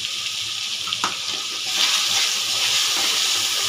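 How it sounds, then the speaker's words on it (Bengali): Pointed gourd frying in a pan with onion paste, ginger paste, green chili and salt, stirred; a steady loud sizzle with a brief scrape near the start, rising slightly partway through, no voices. "একটু নাড়াচাড়া করে কষিয়ে নেবো।"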